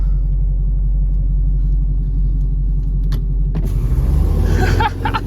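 Supercharged Dodge Challenger Hellcat idling with a loud, steady low rumble that swells toward the end, heard from inside the car with the windows down and the sunroof cracked open. A few brief clicks and rustles sit on top of the rumble.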